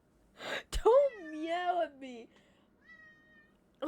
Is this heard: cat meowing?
yes